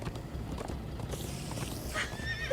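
Rapid hoofbeats of a horse galloping in the video game Minecraft: Story Mode pound steadily while the horse whinnies near the end, with faint background noise throughout.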